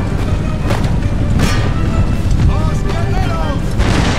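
Deep rumbling cannon blasts in Empire: Total War during a fortress siege, loud low booms and battle noise throughout, with someone talking over them.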